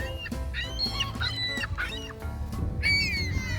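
Seagulls squawking at a park, a dense overlapping chorus of harsh, rising calls from a large flock close by, steady and loud across the clip with no talk.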